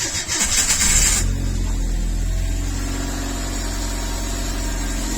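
A Renault Super 5 car engine is cranked by the starter with a quick rhythmic whirring, then catches and settles into a steady, close, low idle rumble.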